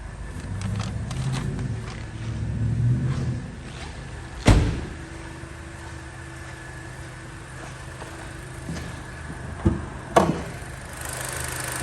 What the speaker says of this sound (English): that's a nice healthy sounding 4-cylinder engine here on this Nissan Kicks